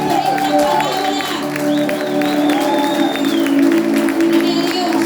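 A church congregation applauds the Lord after a sermon reading, loud clapping and crowd noise mixed with sustained tones, shouts and voices over the top.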